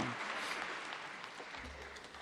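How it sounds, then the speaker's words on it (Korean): A Korean church congregation gives a dense, even round of applause during a worship service, sounding somewhat distant and soft, with no talk over it. "하나님께 감사와 영광과 박수 올려드리겠습니다"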